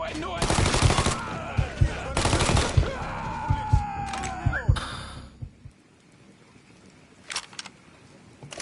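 Rapid bursts of automatic gunfire in the video game Mafia 3, dense repeated shots for about five seconds with shouted voices mixed in, then quieter scattered sounds.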